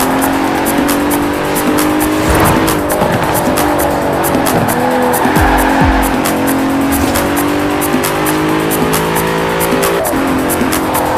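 A 2017 Bentley Continental Supersport races in Forza Horizon 4, its engine roaring loud and continuous as it accelerates, with tire squeals and skids throughout.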